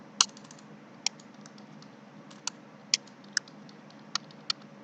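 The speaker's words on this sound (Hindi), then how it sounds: "टाइपिंग।" Sparse, separate keystrokes on a computer keyboard, eight or so crisp clicks spaced irregularly over a quiet room hum, close and distinct with no talking.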